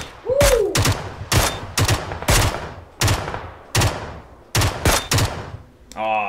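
Gunshots fired in a dinosaur-themed video game come as loud, sharp reports in irregular bursts, about a dozen in all, with a brief whooshing sound near the start.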